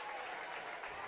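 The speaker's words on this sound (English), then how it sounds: "gets a crowd applause." Crowd applause in a gym at a varsity high school basketball game, a steady, dense wash of clapping and crowd noise at a moderate distance.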